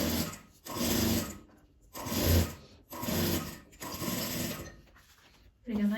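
Domestic sewing machine stitching bias binding onto a fabric scrap organizer, running in several loud bursts of rapid mechanical whirring separated by short pauses for repositioning and a backstitch.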